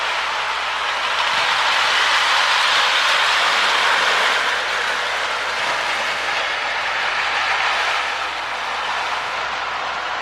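A small prewar American Flyer model train runs steadily along its track, a continuous whirring rattle with faint clicking that swells and fades slightly as it passes.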